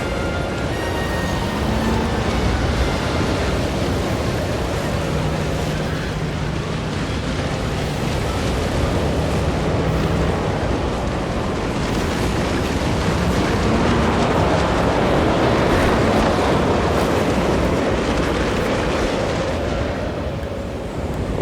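Roaring wind gusts from a twister in a Jurassic park-building video game, a broad turbulent rush that surges and swells across the clip, with faint low tones underneath and no voices.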